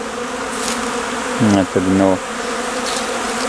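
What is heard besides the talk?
honeybees buzzing at hive entrance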